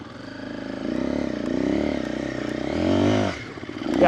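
A KTM 500 EXC-F dirt bike turns around in deep sand at an off-highway riding area, its close engine rising and falling through several throttle blips with some scraping near the end.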